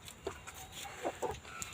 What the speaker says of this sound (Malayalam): ഭയങ്കര ഡേഞ്ചറസ് കോഴിയാണ്. കൊത്തുകോഴി എന്നാണ് പേര് കേട്ടോ.